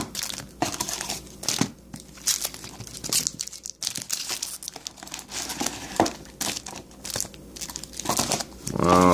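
Oath of the Gatewatch booster packs being torn open, with repeated crinkling foil wrappers and sharp tearing bursts in an irregular rhythm, close and fairly loud, and occasional voices.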